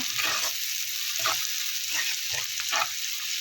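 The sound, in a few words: onions with salt frying and being mixed for mutton sukka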